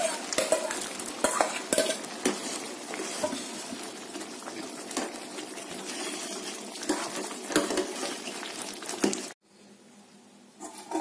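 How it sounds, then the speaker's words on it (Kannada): A thick jaggery and lentil mixture cooking on low heat in a heavy-bottomed pot, stirred with steady scraping and clinking strokes that run close and continuous, then stop abruptly near the end. "ಈಗ ಸ್ವಲ್ಪ ಗಟ್ಟಿಯಾಗೋವರೆಗೂ ನಾವು ಇದನ್ನ ಚೆನ್ನಾಗಿ ಕುದಿಸ್ಕೊಂಡಿದ್ದೀನಿ ಸಣ್ಣ ಉರಿಲಿ ನೋಡಿ"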